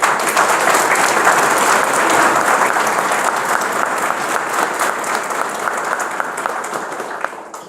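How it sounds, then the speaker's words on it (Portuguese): Sustained applause from a sizable crowd at a civic event, loud and dense at first, then gradually thinning and fading toward the end. "Uma salva de palmas que vocês merecem"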